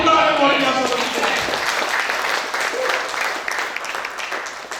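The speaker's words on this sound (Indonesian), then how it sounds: "Tepuk tangan yang luar biasa bagi Tuhan." Church congregation clapping during a Sunday worship service, a broad burst of applause that starts loud and slowly thins out, with a voice and some tonal sound briefly audible at the start.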